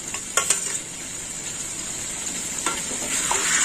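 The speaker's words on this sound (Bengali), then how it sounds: "চিংড়ি মাছটাও ঝিঙের সাথে কষা হয়ে যাবে।" Fried prawns cooking with ridge gourd in a pan for a moong dal dish, a steady hissing sizzle with a couple of quick clinks of a spatula early on, close and unaccompanied by voices.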